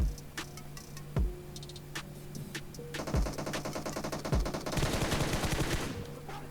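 Gunfire rings out in a battle royale video game match with an M4 rifle, single loud shots at first, then rapid automatic bursts that grow into sustained heavy firing.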